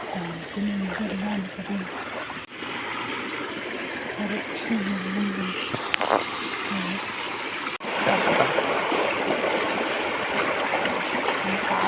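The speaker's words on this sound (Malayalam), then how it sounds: "അപ്പം വെള്ളം പോകുന്ന സൗണ്ടാണ് ഇപ്പോൾ കേൾക്കുന്നത്." Water pours from a flooded paddy-field channel into a stream, a continuous rushing, trickling wash that swells louder near the end, with a person talking intermittently over it.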